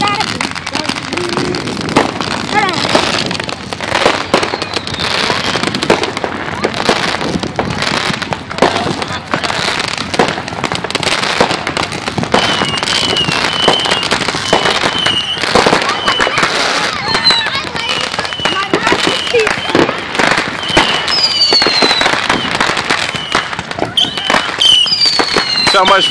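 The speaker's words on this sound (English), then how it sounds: "So much firecrackers going on around us" Firecrackers and fireworks pop and bang constantly on the Fourth of July, a dense crackling barrage near and far, with voices talking over it.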